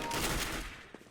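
P90 submachine gun fire in Counter-Strike: Global Offensive, a dense burst of rapid shots running most of the second before tapering off, loud and alone without talk.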